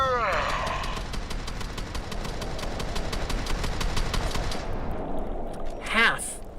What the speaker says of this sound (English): I unloaded a full magazine.